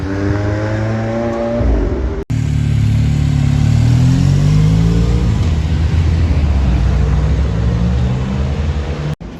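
A McLaren 720 supercar on a Luxembourg street, its engine revving loud and close, rising in pitch as it accelerates away, with a brief cut partway and a sustained roar after.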